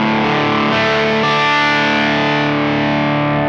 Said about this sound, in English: You're going to get this extended drop D sound.